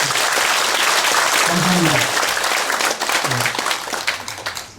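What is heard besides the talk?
applause at a Buddhist ceremony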